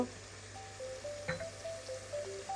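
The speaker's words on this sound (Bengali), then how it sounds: "এখন এই মশলাটা ভালো করে কষানো হোক" Spice paste sizzles steadily in a pan while being fried down for a prawn and ash gourd curry, a close, even hiss with a faint melody of soft tones running over it.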